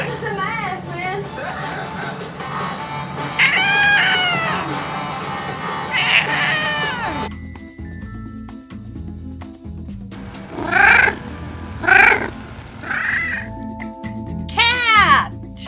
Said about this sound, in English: What does the cat say? Meow.